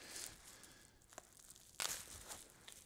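Scissors snipping and tearing through tape on the packaging of a Chinese dao sword, with faint crinkling handling noises and one sharper crackling burst midway, quiet and close.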